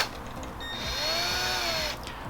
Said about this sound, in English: put in the drill, gently spin it down.